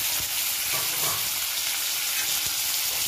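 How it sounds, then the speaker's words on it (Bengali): Potatoes drop into hot oil with cumin and fry with a loud, close, steady sizzle, broken by a few soft knocks from the pan. "এখন আমি আলু গুলো ছেড়ে দিলাম"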